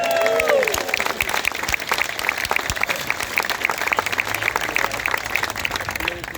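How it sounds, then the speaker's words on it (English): A crowd claps steadily in dense, sustained applause for several seconds at an outdoor plaque unveiling in Ballincollig, Ireland. A brief voice or cheer rises at the start. "I think you deserve a round of applause."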